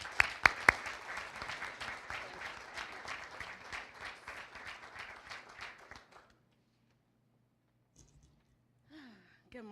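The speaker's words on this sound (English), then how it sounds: "So please give her a round of applause." Audience applause at a Medicaid expansion kickoff event in North Carolina, a dense crowd clapping for about six seconds with a few sharp close claps at the start, then near silence with faint brief sounds.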